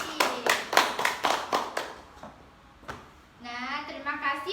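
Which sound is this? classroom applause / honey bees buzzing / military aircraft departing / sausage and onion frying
classroom applause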